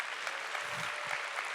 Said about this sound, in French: On peut l'applaudir, je pense, quand même.